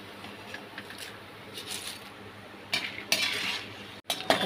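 Diwali faral snack frying in hot oil with curry leaves, a steady soft sizzle under occasional scraping and stirring clinks of a utensil against the pan, louder bursts of bubbling toward the end.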